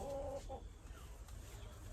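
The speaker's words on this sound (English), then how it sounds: "I have a couple of hens that are Leghorn and Rhode Island Red mixed" Leghorn and Rhode Island Red mix hens clucking close by, with a short run of clucks at the start and softer murmuring after, over a low steady background hum.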